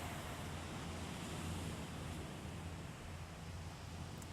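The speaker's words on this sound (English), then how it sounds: "So here's the beach." Ocean surf on a beach gives a steady wash of broadband noise. It is faint and distant, with a low rumble, and no voices are heard.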